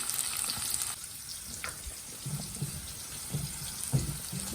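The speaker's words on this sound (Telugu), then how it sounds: "ఒక పెద్ద సైజు ఆనియన్ సన్న పొడవుగా ముక్కలు పెట్టేసుకోండి ఇది కొంచెం గోల్డెన్ బ్రౌన్లోకి వచ్చే వరకు వేయించుకుందాం" Thin-sliced onions frying over medium heat toward golden brown, a soft sizzle with a few light stirring taps, fairly quiet and steady throughout.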